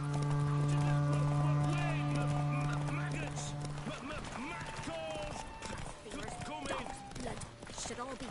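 Roach, the horse in The Witcher 3: Wild Hunt on PS5, galloping with rapid clip-clop hoofbeats and a whinny, set against a sustained in-game musical drone and battle noise, with voices speaking over it.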